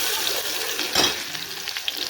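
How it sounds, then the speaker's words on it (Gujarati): Garlic fries in hot oil with mustard seeds, a steady close sizzle with a sharper crackling burst near the middle and small pops scattered after. "રાઈ ફૂટી જાય એટલે આપણે નાખશું લસણ."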